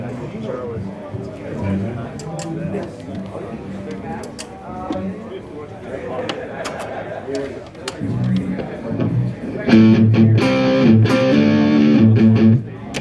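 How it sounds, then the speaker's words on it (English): Distorted electric guitar chords through a Fender amp's dirty channel, gritty and sustained, with a louder, fuller strummed passage near the end. "I'm going to give you a little bit of the dirty channel here."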